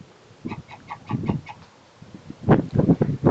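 Chickens cluck in short repeated bursts, then a louder flurry of clucking and fowl calls from nearby birds.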